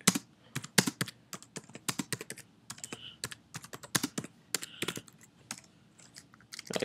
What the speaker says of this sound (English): I can't type fast for my life.